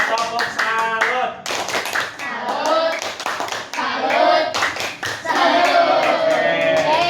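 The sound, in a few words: class rhythmic salute clapping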